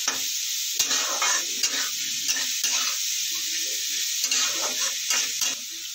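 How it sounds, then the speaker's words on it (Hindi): Mixed vegetables being stir-fried in a pan for homemade chowmein: a loud, continuous sizzle broken by repeated scraping and tossing strokes of a spatula throughout. "फिर इसको 5 मिनट भूनेंगे।"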